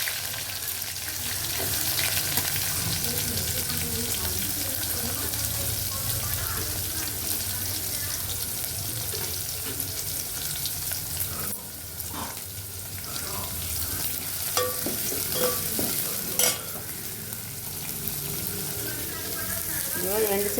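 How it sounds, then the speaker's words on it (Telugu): Dried fish sizzling in hot oil with onions, mustard seeds and cumin, a steady broadband frying hiss with occasional stirring clinks and scrapes, close and continuous throughout. "ఎండు చేపలు వేగుతాయి"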